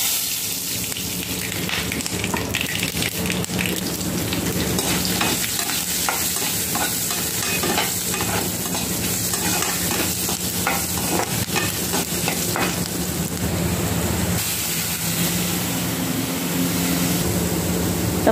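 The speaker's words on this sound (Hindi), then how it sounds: "अभी राई डालूंगी" Mustard seeds frying in a pan for a jackfruit curry, a dense steady sizzle with fine crackling and occasional stirring, loud and close throughout with no speech.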